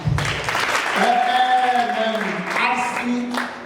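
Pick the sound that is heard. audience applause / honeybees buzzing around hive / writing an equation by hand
audience applause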